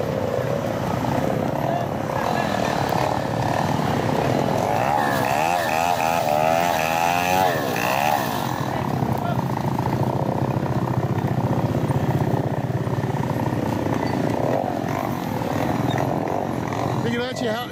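Chainsaw running outdoors at a roadside blockage in Cambodia, a loud sustained engine drone with rising and falling revving throughout.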